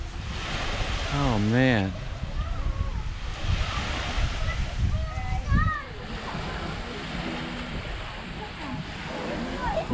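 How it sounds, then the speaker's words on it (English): Ocean waves wash onto a beach at a cottage resort in Siaton, Negros Oriental, Philippines, with a steady rush and splash of surf underneath people talking nearby. "Listen to the sound of that waves."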